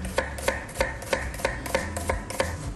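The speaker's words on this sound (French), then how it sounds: "Alors, nous allons ciseler l'échalote." A knife finely chopping shallot, about a dozen crisp, evenly spaced cuts against a board, close and clear with no talk over them.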